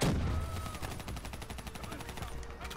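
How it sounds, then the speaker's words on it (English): Rapid bursts of gunfire from Call of Duty: Black Ops 3 fill the whole stretch, a dense, near, sustained fusillade of repeated shots with a loud blast at the start and no pause. "Give me some cover fire."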